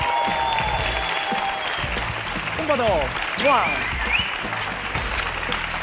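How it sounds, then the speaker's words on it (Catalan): A television game show studio audience applauds the contestants, a dense burst of clapping under excited voices and shouts close by, with an announcer speaking over it. "Els hi donem un fort aplaudiment ja als nostres jugadors"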